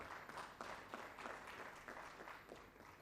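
Rhythmic audience clapping at an official meeting of basin water boards addressed by a water minister, heard as a faint, steady run of hand claps in a room.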